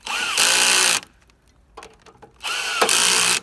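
A power drill tightens screws in a garage workshop, two loud whirring bursts of about half a second each with a quieter clicking gap of handling noise between them.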